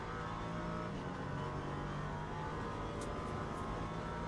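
An LMP3 prototype race car at Sebring in a racing video game drones continuously at full throttle, a loud, sustained engine tone with slight pitch shifts and no talk.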